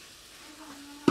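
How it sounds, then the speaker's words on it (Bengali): A curry sautés quietly in a pan with a faint, low sizzle. At the end, a lid lands on it with one short, bright metallic clank. "এখন একটু কষানো হোক, ডাকনা দিয়ে দিচ্ছি।"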